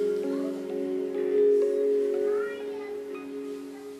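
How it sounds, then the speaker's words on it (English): Login chime on a freshly installed Linux desktop computer, a soft sustained tonal swell of layered notes lasting several seconds, moderately loud and heard alone. "I guess that's the sound of when you log in or something"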